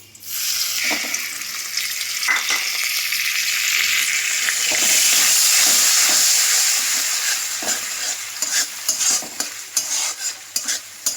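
Ground mustard paste for shorshe ilish hits hot oil in a frying pan and sizzles loudly, a dense continuous hiss with stirring scrapes breaking through toward the end.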